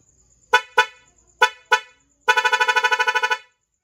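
A Honda XRM110 motorcycle stock horn honks in short blasts, two quick pairs, then a longer rapid stuttering burst of toots, loud and close with no talking.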